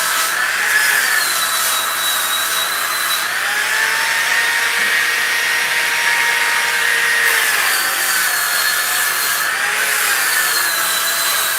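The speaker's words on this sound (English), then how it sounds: "Yeah, this sander's awesome." Electric sander working on wood for a sign, a steady loud whirring grind with rising and falling pitch that runs continuously for the whole stretch, with no voices over it.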